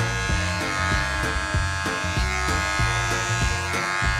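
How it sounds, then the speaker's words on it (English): A cordless Wahl Magic Clip hair clipper cutting a pixie cut, its steady electric buzz pulsing in a regular rhythm of short strokes, close and alone without speech. "The clipper that I'm using today is a cordless Wahl Magic Clip."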